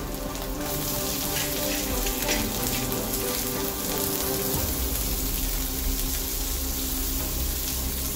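Chopped ginger, garlic and onion fry in a hot black mustard-seed tempering, giving a loud, steady rain-like sizzle with brief stirring scrapes, close and continuous without talk.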